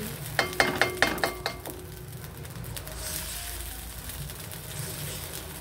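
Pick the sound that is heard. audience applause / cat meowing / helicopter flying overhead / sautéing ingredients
sautéing ingredients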